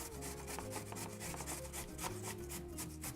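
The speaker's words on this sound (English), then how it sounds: "And grating the carrot is probably the longest job." A carrot is grated on a fine grater in rapid, even strokes, each pass giving a soft rasping scrape in a steady rhythm, quiet and close with no voices.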